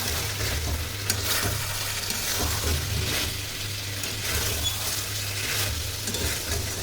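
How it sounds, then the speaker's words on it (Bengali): Chicken with cashews sizzles in a pan over high gas heat while being stirred, close continuous frying crackle with periodic scraping strokes of a spoon. "এবার ভালো করে আমি কাজুটাকে দিয়ে ভালো করে মিশিয়ে নিচ্ছি। গ্যাসের জোরটা আমি বাড়িয়ে দিয়েছি, দিয়ে ভালো করে আমি কষে নিচ্ছি।"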